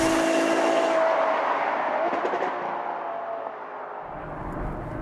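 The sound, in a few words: Ferrari FF sports car engine while driving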